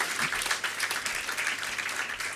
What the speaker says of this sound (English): Give a louder round of applause to yourself.